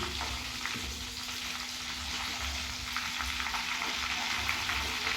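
Amaranth leaf pakoda deep-frying in hot oil, giving a continuous bubbling sizzle with occasional stirring, moderately loud and close, with no voices.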